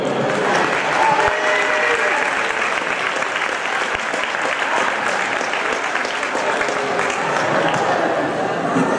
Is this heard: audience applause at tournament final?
yes